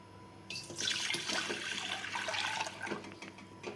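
Water poured from a vessel into a small cooking pot set to heat for frying potatoes, a loud continuous splashing gush starting after a brief pause and running steadily, with no talking.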